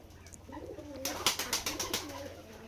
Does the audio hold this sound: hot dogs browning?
no